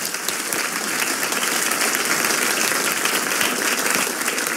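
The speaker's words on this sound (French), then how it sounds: "On peut les applaudir." A television talk-show studio audience claps loudly and steadily, a thick unbroken wash of applause with no speech over it.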